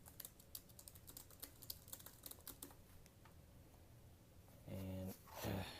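Light typing on a Fintie iPad keyboard case, a quick patter of soft key clicks that fades out, followed by a couple of brief low sounds near the end.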